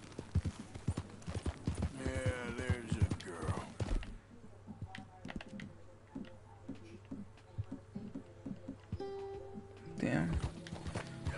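Horse hooves clip-clop at a steady gait while riding in Red Dead Redemption 2, with someone talking over the first few seconds and game music and ambience underneath.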